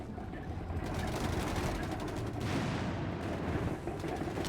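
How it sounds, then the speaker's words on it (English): Machine gun fire and other battle noise rumble at a distance in Company of Heroes 3, with faint, continuous bursts. "Cloud squad caught with the machine gun there."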